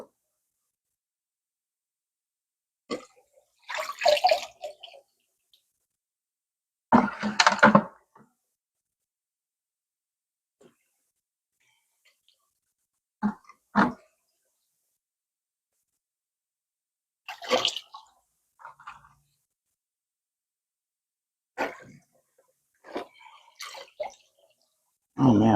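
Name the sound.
rinsing aquarium decor and sponge filter with water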